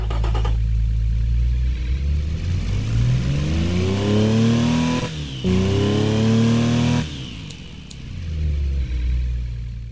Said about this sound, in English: let's give you a brief listen to what this inline 3 sounds like right now